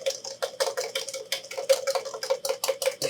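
A whisk beats rapidly inside a bowl, making a steady run of close metallic clicks and swishes in a quick, even rhythm with a faint ringing tone underneath.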